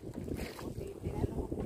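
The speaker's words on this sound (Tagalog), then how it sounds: "medyo malalaki ang alon at ang hangin ay norte" Steady wind buffets the microphone over a low, churning wash of water, rough and continuous, like an open boat moving through choppy sea with fairly big waves under a north wind.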